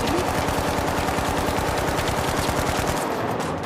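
Rapid automatic AK-style gunfire from the video game The Finals rattles in a continuous fast burst, loud and dense, tapering slightly near the end with no talk.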